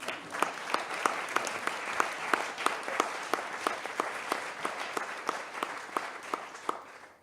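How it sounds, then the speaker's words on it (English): Steady applause from a literature congress panel audience after readings, many hands clapping continuously with distinct claps standing out, fairly close and lively throughout. "a round of applause for all our readers again"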